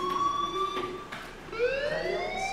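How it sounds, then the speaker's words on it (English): A rising and falling electronic alarm tone wails steadily and fairly loud in the Life is Strange video game, holding one pitch before sweeping upward. "do you hear that fire alarm?"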